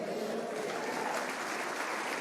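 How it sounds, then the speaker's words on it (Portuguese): A church congregation applauds during a sermon, a steady, dense wash of clapping from a large crowd, fairly close and continuous. "Você pode glorificar a Deus com suas palmas?"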